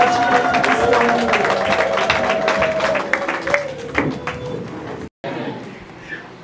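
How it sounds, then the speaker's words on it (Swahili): A church congregation claps in a dense, sustained burst of applause with voices and cheering mixed in. The sound thins out and drops away near the end. "Naomba kanisa tupige makofi na vigelegele kwa jina la Yesu."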